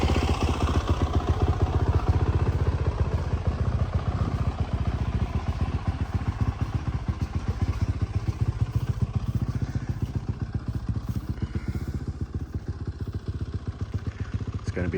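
A motocross motorcycle engine idles and warms up outdoors on a snowy March day, a steady close, loud rapid thumping putter that holds throughout with slight variations and no talking.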